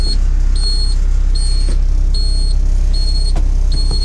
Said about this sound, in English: as soon as it reaches a certain point, the high idle will kick on